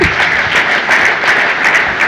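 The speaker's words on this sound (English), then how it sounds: "Can we clap?" An audience at a technical conference talk on disaster recovery breaks into loud, dense applause, steady close-up clapping from many hands throughout with no talking.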